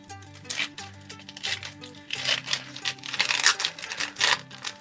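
Crinkly foil packaging of a Pokémon trading card pack is torn and ripped open up close, with bursts of crackling and tearing that grow louder toward the end.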